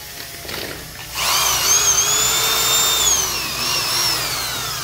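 A Makita power drill starts up after a second of quiet. It then runs with a loud, close, steady whine, with slight pitch shifts as it spins.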